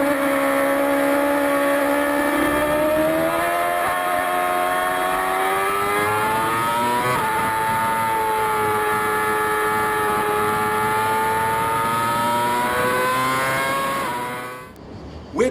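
Formula One car engine at high revs during a lap through slower corners, a loud sustained whine that rises and dips with gear changes and throttle, continuous and close until it cuts off at the end.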